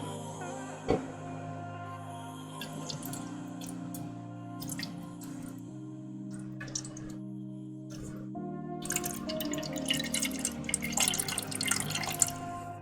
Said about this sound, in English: Just fill up your water bowl.